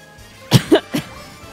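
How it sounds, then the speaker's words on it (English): Three quick, harsh coughs in a row, close to the microphone, followed by quiet. "I've been coughing all day."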